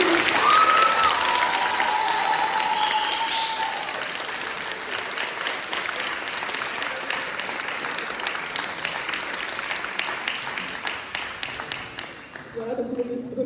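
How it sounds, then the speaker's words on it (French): Sustained applause from a school staff audience at a back-to-school gathering, dense clapping lasting over ten seconds under some crowd noise and a few voices, thinning out near the end. "Vous pouvez vous applaudir."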